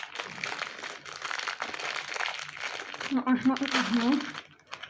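Paper wrappers from small snack cakes crinkle and rustle close by as they are set aside, sharp crackling bursts throughout, while someone talks over them.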